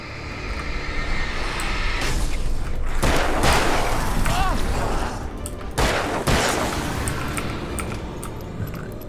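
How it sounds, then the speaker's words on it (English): Flare gun fired in Alan Wake, a sharp loud burst followed by a sustained whooshing flare hiss, with another bang later, under a voice. "Flare gun, motherfuckers."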